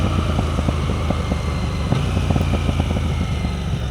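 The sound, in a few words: KTM 990 RC R motorcycle homemade exhaust burbles when downshifting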